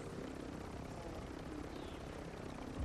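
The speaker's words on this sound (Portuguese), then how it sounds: "Ó, o helicóptero. Vai pegar o helicóptero." A helicopter in Call of Duty Warzone 2 gives off a steady, fairly distant rotor and engine drone that stays even throughout, with no talk.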